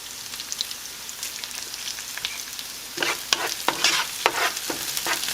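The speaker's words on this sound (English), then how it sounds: "Give that a good little saute." Torn basil hits hot oil in a pan and is stirred, giving a soft, steady sizzle that turns into busier crackling and sharp scraping stirs in the last couple of seconds, close and with no talking.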